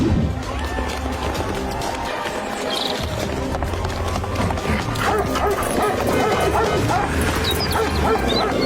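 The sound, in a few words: dogs barking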